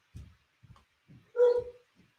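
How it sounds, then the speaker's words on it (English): A dog gives several short low woofs followed by one louder, sharper bark, spaced irregularly, fairly close, with no talking over it. "you know when the dog bark like that"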